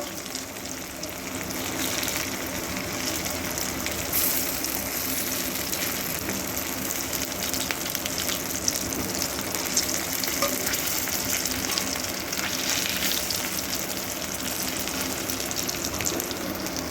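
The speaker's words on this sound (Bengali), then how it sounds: "এইভাবে একটু গ্যাসের আঁচটা মিডিয়াম টু লোতে রেখেই এপিটোপিট একটু কড়া করে ভেজে নেব" Katla fish oil fritters frying over medium-low gas in a pan, a dense continuous sizzle and bubbling hiss that holds steady and close for the whole stretch, with no talking.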